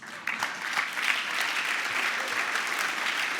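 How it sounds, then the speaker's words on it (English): An audience claps together for a few seconds at a speech, a dense, steady burst of applause from a crowd. "I really want to start my speech in an important way, and that is for all of you to give a round of applause for yourselves."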